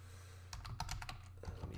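A short flurry of typing on a computer keyboard, quick soft clicks in an uneven rhythm after a moment of quiet, over a faint steady hum.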